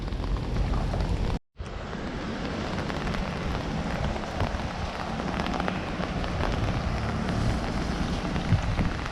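Heavy rain pours steadily in Cartagena, a dense, loud hiss of drops hitting surfaces close by, continuous apart from a brief cut early on, with no voices.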